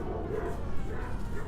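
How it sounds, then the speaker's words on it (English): Neighbourhood dogs bark and yip at a distance, muffled beneath a constant wash of background noise. "excuse me if the barrio dogs are going out of control right now"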